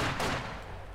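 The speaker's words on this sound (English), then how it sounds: "auto cannon begins hammering into the wooden panelling of the building" A 2cm autocannon on a German scout car fires in Company of Heroes 2, a short loud burst of rapid shots hammering into a wooden building, fading within a second.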